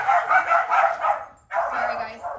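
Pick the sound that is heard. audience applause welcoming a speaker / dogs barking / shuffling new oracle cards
dogs barking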